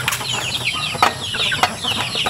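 Ducklings being fed peep and chirp busily in a dense, close chorus, with soft scuffling and the odd rustle of wings.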